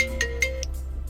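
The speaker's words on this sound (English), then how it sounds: "Customer gets alerted if they're not around via a phone call." An incoming-call ringtone from a phone, triggered as an alert by a Starline IF410+ car immobiliser on a Range Rover Velar, sounds as a short run of repeating electronic tones against a steady low hum.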